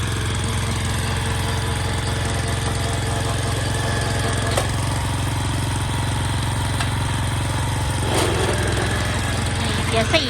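A small engine runs steadily in second gear with a low droning hum and faint mechanical whine, a voice speaking over it briefly.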